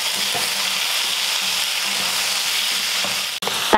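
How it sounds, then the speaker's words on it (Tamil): Small shallots and garlic cloves sizzle steadily in hot oil in a pan for a Tamil fish curry, a constant frying hiss with occasional soft stirring clinks, up close and with no talking. "இதில் 10லேருந்து 15 போல் சின்ன வெங்காயம், அதே போல் பூண்டுப்பல் 10லேருந்து ஒரு 15, இதை வதக்கிடலாம்."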